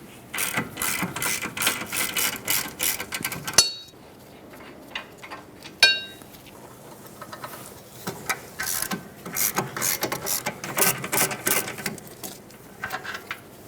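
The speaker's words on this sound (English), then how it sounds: "Let's remove the two 15mm bolts that hold the caliper onto the knuckle" Two 15mm caliper bolts being removed from the rear knuckle of a 2010–2017 Chevrolet Equinox, heard as bursts of rapid ratchet clicking broken by brief pauses and a couple of sharp metallic clinks, close and fairly quiet.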